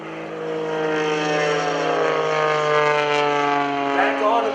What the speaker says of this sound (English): On the ramp area here, the Raiders are warming their engines up.